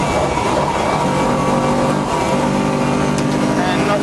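A saloon race car on a circuit during a race day in Albacete, its engine revving hard and steady under load as it shifts through gears and brakes, loud and close, with a voice talking over it.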